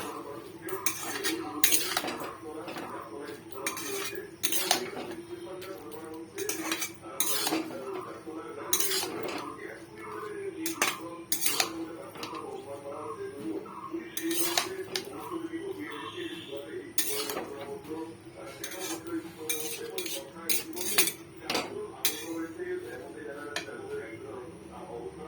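Repeated clinks and scrapes of a metal spoon against a pan while ash gourd leaves are stirred, a quiet, irregular rhythm of sharp taps with someone talking in between.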